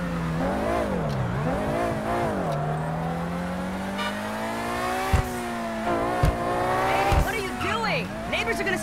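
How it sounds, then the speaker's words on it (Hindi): A Range Rover driven in the GTA V video game revs and shifts through gears, engine pitch sweeping up and down, with thumps and brief tire noise, loud and close under ongoing talk. "अभी फ्रैंकलिन रेंज रोवर गाड़ी को लेके जाएगा"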